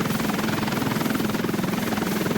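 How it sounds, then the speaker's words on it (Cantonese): A helicopter rotor thumps in a fast, steady pulse, loud and close, with a constant engine drone and no pauses or voices. "哇，直升機"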